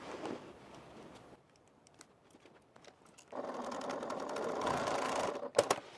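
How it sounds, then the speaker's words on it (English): A sewing machine stitches the box corners of a faux leather bag in two short bursts of rapid mechanical whirring, separated by a quiet pause with faint handling clicks, ending with a couple of sharp knocks. "I'm going to go ahead and just stitch the box corners"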